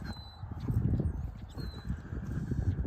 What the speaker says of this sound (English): Cattle are walking towards the back right now.